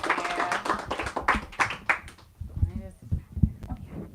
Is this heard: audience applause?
yes